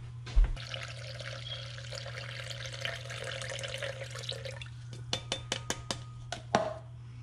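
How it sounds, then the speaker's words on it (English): Water poured into a kitchen container while cooking bistec ranchero, a soft running splash with a low steady hum beneath, followed by several sharp clinks and knocks of dishes near the end. "And next you're gonna add some water."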